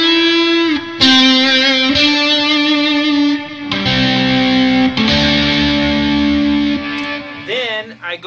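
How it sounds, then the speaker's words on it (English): Electric guitar played through a D1 distortion pedal, sustained overdriven chords and notes ringing thick and loud, changing every second or so, with a short bent note at the end. "A D1 distortion pedal."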